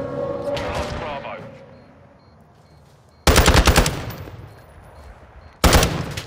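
Automatic machine gun fire in the shooter game Call of Duty: Modern Warfare II, two loud bursts cutting in abruptly after a stretch of quieter battlefield ambience, the second burst short.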